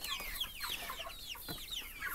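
Young broiler chickens, around two weeks old, resting on sand bedding peep and cluck in a dense, continuous chorus of short chirps, close by and fairly soft.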